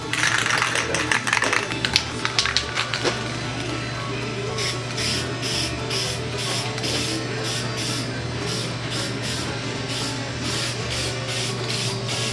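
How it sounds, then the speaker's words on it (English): Spray can of Restore frosted glass paint hissing in a long steady burst, with a hum and a few taps beforehand. "don't really know how to use this frosted glass by Restore. And guess we just spray and pray"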